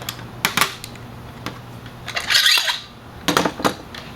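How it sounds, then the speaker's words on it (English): A clamp is worked loose and removed from a motorcycle's open-chamber fork, giving several sharp metallic clicks and clinks spaced through the moment, with a short scraping rasp in the middle and a faint steady hum underneath. "Okay, we'll take our clamp off."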